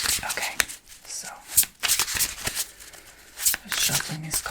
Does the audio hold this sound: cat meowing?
no